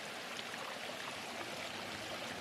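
Water pours out of old tunnels at an abandoned mine, a constant rushing, trickling wash that is moderately faint and unbroken.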